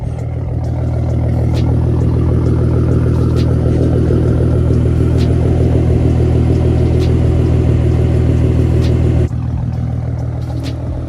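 Loud cheap aftermarket exhaust on a V6 Ford Mustang, a deep steady rumble held near and continuous for most of the stretch, dropping off sharply near the end, with no talking.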